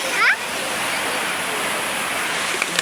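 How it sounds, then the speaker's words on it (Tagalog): Steady rain pours down during a storm at a home, a dense, even hiss of falling water throughout, with a brief voice at the start. "Umuulan siya guys."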